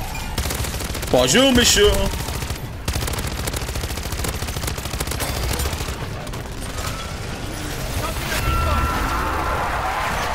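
Rapid submachine-gun fire in the zombies mode of Call of Duty: Modern Warfare 3, loud sustained bursts crackling through the whole stretch, with voices talking over the shooting.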